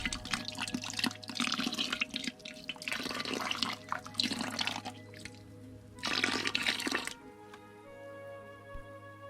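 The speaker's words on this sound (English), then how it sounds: "One final stir, and I add it into the soy milk very slowly" Boiled soy milk is stirred after gypsum is poured in, giving bursts of close, churning liquid sloshing separated by brief pauses and ending in quiet.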